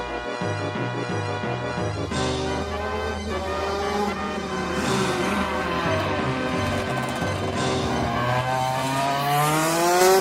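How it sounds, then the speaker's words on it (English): A go-kart engine buzzes loudly past, its pitch climbing and falling in steady revving sweeps over a dense, continuous racing texture. "Where did that go-kart come from?"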